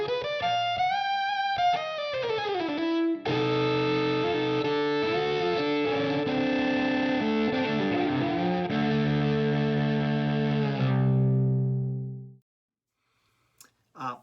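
Electric violin played through a Line 6 Helix patch with stompbox effects, a roughened, distorted tone with sustained melodic lines and sliding notes, loud and continuous before cutting off near the end.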